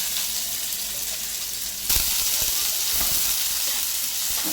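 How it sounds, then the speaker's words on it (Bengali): Chopped onion hits hot oil in a pan with dried chillies for a banana-flower dish, a sudden loud sizzle bursting in and then crackling steadily, close by. "পেঁয়াজটাকে একটু লাল লাল করে ভেজে নেব"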